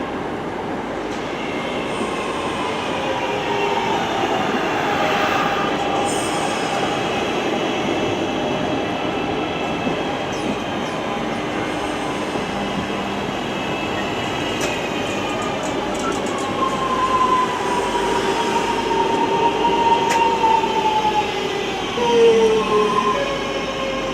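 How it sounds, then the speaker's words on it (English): British Rail Class 323 electric multiple unit pulling into a station from Warrington, a loud sustained rumble with rising wheel squeal and brake whine as it slows, heard up close on the platform. "Here comes the 323 arriving in from Warrington, Bunkie."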